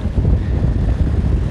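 Strong wind at a beach on the south coast of Pernambuco roars steadily into the microphone as a loud, low, continuous buffeting rumble.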